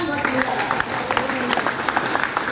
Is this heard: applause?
yes